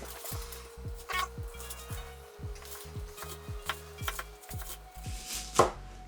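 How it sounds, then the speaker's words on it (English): Knife blade chopping raw chicken wings on a cutting board, a steady series of about a dozen sharp, close thuds with a brief scrape or clink near the end, no talking. "Alright, so they're somewhat chopped now."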